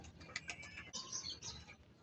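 Pigeons coo inside their loft in low, soft murmurs that overlap steadily, with a few brighter chirps and flutters from birds close by.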